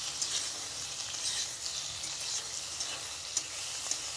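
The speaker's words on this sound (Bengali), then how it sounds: "পাপা আলু আর টমেটো কষাইতেছি।" Potatoes and tomatoes frying in a pan while being stirred, a soft, steady sizzle with light intermittent scrapes and taps of the spoon, faint and without talk.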